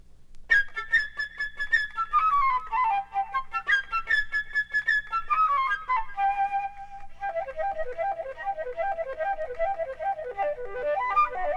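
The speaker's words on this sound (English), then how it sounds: "Next, we have the bird, played by electric flute." A bright, reedy electric flute plays a lilting bird theme with trills and falling phrases, loud and continuous over a soft low backing.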